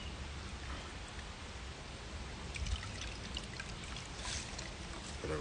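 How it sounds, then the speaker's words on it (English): A rag rinsed under a running tap gives a steady, close splashing pour of water that swells a little louder near the end, with no voices. "Gonna rinse that out."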